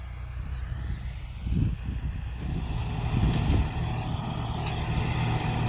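A John Deere tractor pulling a cultivator in C first gear, its engine a steady low rumble that swells slightly midway and holds continuously throughout, fairly close.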